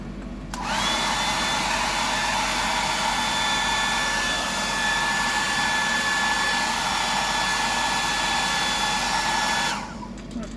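A hair dryer blows steadily for about nine seconds to dry paint on a bibless fishing lure, switching on and off cleanly with a constant whirring roar and no talk over it.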